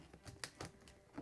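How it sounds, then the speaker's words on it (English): Scissors cutting open a board game box, with a few short, crisp snips and scrapes close by at an uneven pace. "Pulling out the scissors again."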